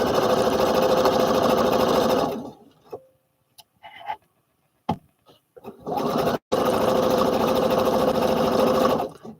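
Sewing machine stitching a Butterick B5572 garment, loud close runs of fast, even needle strokes, stopping midway for a few seconds of quiet handling noises before running steadily again.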